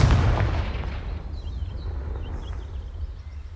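A single loud, booming fire-spell blast in the Hogwarts Legacy video game, hitting hard at the start and then decaying into a long rumbling tail with faint crackles.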